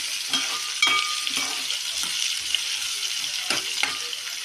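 Spices frying in a hot pan while being stirred until browned, a continuous sizzle punctuated by regular scraping strokes of a spoon against the pan.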